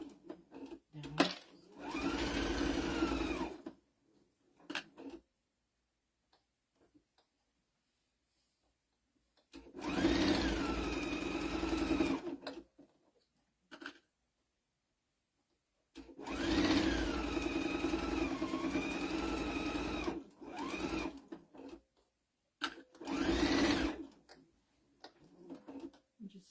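A sewing machine stitches across a tea towel in four separate runs of steady whirring, each lasting a few seconds and broken by quiet pauses, close and clear.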